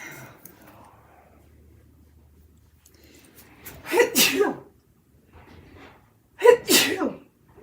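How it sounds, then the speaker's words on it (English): Two loud sneezes, about two and a half seconds apart, each a sharp burst after a quiet stretch with faint background noise. "just 2 sneezes"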